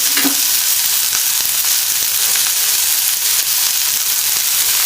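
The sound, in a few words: mutton pepper fry frying in a pan with spices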